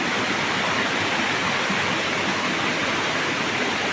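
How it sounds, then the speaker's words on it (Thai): A steady, close roar of falling water from an unnamed waterfall in a forest during the rainy season, continuous broadband rushing that fills the whole stretch with no voices. "มันก็เป็นน้ำตกที่เงียบสงบดีนะครับ"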